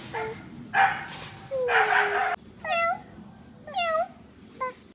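A cat meows several times in short, separate cries, close and fairly loud, with brief quiet gaps between them.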